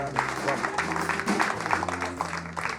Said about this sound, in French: Tout à fait, c'est une bonne réponse, on peut l'applaudir.